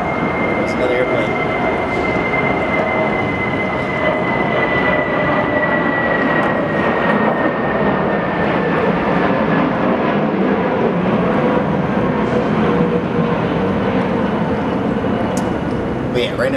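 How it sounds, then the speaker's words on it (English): An airplane flying overhead, a steady broad roar with a faint sustained whine that holds loudly throughout, while a person talks over it. "there's another airplane."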